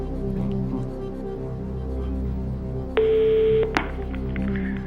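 Telephone touch-tone dialing on a televised quiz show as a call goes out to a contestant's friend: a steady tone followed by a short beep, heard over a low hum of studio background without talk.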